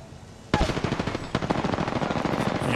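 Rapid automatic gunfire in the battle royale game Apex Legends, a loud sustained burst of close shots with a sharp first report, firing continuously with a dense stuttering rhythm.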